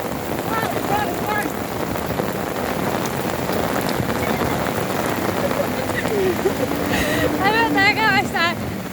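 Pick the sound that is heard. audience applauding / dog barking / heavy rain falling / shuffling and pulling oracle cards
heavy rain falling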